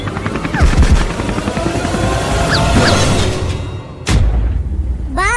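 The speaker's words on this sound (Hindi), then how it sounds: "अबे जल्दी कूदो, ये हेलीकॉप्टर गिरने वाला है।" An animated cartoon helicopter that is about to crash roars loudly with a thick rotor chop, mixed with whooshing sweeps, a sudden crash-like burst near the end and a rising whistle.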